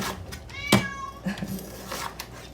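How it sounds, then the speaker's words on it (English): A cat meowing at the back door of a home kitchen, one clear, close meow followed by fainter, shorter cries and a little background noise. "apparently now my cat's going to stand at the back door and meow"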